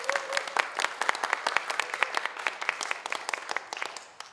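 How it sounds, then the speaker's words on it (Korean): Scattered, fairly close hand clapping from a small audience at a Dale Carnegie CEO class welcome gathering in Daegu, individual claps distinct and uneven, with a brief voice at the start. "한번 박수 한번 쳐주시겠어요?"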